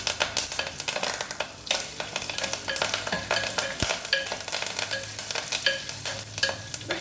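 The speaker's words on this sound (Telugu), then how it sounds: "ఇప్పుడు కరివేపాకు వేసేస్తున్నాం." Curry leaves crackle and sizzle in hot tempering oil with fried lentils, a dense spitting hiss broken by sharp pops and stirring scrapes, close and continuous with no talking.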